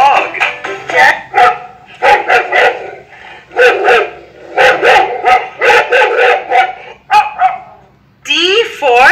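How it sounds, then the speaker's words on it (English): A learning pen toy plays a recorded dog barking, a rapid series of loud close barks and yips in quick bursts, with a spoken voice from the toy near the end. "D for dog."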